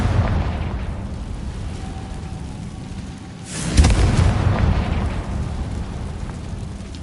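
Confringo spell explosion in Hogwarts Legacy, a sudden deep boom bursting midway through a rushing, rain-like ambience, then a sustained rumbling roar.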